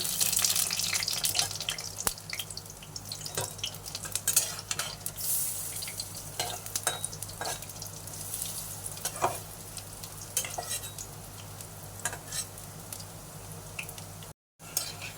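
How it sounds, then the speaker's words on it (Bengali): Small fritters (bora) sizzle steadily as they fry in a pan of oil, with a continuous crackling hiss and occasional stirring scrapes, close and fairly loud throughout. "এই যে হালকা হালকা করে ভেজে নিলাম"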